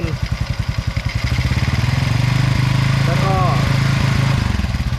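A Honda Wave 125 motorcycle engine, a model prone to poor acceleration and stumbling, putters unevenly at first, then settles into a steady raised idle as the throttle is held partly open, loud and close.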